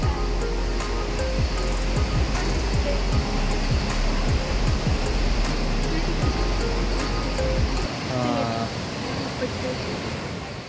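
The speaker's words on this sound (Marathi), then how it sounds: "समुद्राच्या दुधाळ्या लाटा आपल्याला पाहायला भेटत आहेत आणि त्या लाटा अधूनमधून त्या खडकाला उंच अशा आपटताना पाहायला भेटतील" Milky white sea waves surge and crash against rocks on the shore near a temple in Devgad, Maharashtra, a loud continuous roar of surf with wind and hiss throughout.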